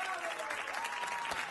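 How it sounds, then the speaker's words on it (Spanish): A television studio audience on a Spanish-language variety show claps dense, steady applause throughout the brief moment, with a voice faintly under it. "Démosle un aplauso."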